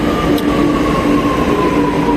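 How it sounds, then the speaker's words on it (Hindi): A metro train pulls into Charbagh metro station in Lucknow with a steady rumble and a faint whine, loud and close on the platform, with no voices. "ये मेट्रो आ गई है"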